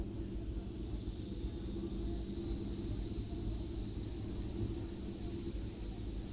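Steam hisses steadily from an opened injector valve on a simulated Disneyland Railroad steam locomotive, a continuous airy rush over a low mechanical rumble that stays even throughout.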